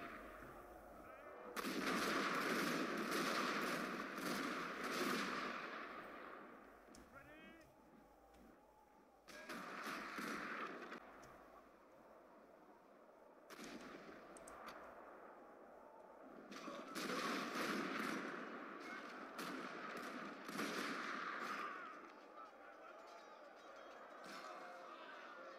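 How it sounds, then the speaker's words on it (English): Nineteenth-century troops fire in a Total War Steam and Steel mod battle at a bridge, sending out repeated loud bursts of volley gunfire and booming artillery with short quieter gaps between them. "Now it is time for our troops to start shooting."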